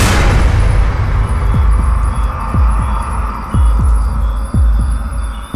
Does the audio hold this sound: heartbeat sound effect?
yes